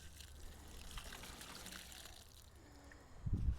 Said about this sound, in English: You just give them a good drink of water on the top to let it settle